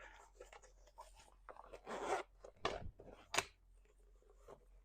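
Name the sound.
purse zipper being opened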